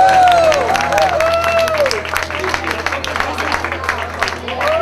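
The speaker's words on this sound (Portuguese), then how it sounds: "Aplausos para o casal!" An audience claps and cheers for a dancing couple at a festive event, the applause mixed with a voice and music, loud and close.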